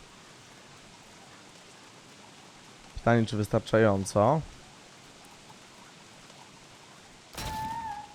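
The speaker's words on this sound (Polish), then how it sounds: "Deszczyk sobie pada, to gitbo nas schłada troszeczkę." Rain falls steadily in the video game Don't Starve, a constant soft hiss of pattering drops, with someone talking briefly over it and a short game sound near the end.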